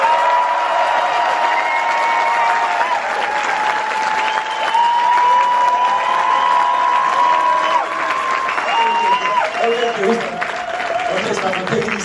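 Steady crowd applause fills the space at a movie premiere in Paris, with a voice rising over the clapping and some cheering mixed in throughout.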